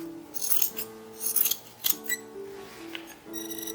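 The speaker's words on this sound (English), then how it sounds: "so I'm just going to trim that down." Scissors trim the edges of a fabric lining for a 1930s-1940s toddler sacque, giving several crisp, close snips and scraping cuts at an uneven pace with no talking.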